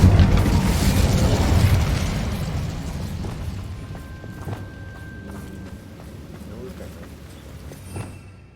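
An Incendio fire spell goes off in Hogwarts Legacy with a loud, low burst that decays into a fading rumble, followed by a few smaller thumps and crackles.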